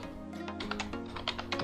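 Computer keyboard typing ViewBinding code into Kotlin Options in Android Studio: a quick run of close, light key clicks in an irregular rhythm over a steady low hum, with no talking.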